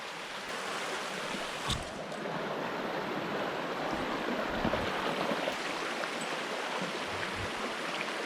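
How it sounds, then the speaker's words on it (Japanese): Clear river found on a walk with a Kai Ken dog, its water rushing in a steady broadband wash throughout, close and continuous, with a few brief low thumps. "散歩の途中で、清涼感あふれる川を見つけました。"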